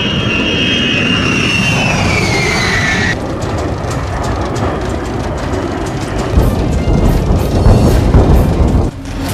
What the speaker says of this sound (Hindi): दुश्मन का काल कहे जाने वाले B-52 बॉम्बर से कांपा रूस के बिल्कुल पास का आकाश